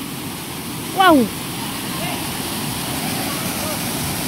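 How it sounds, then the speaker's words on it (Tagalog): Strong spring water pours down from above at the Badjang spring resort, making a steady rushing hiss throughout, broken by a loud, brief exclamation from a nearby voice. "kinakusugan ang tubod gikan sa ibabaw"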